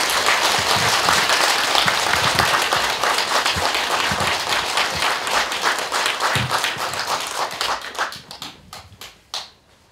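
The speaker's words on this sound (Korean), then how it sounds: "우리 축하의 큰 박수를" Sustained audience applause fills a Buddhist installation ceremony for a new president of a unified Buddhist order, loud and dense at first, then thinning into scattered claps before fading out near the end.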